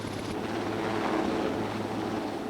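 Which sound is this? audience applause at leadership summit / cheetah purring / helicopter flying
helicopter flying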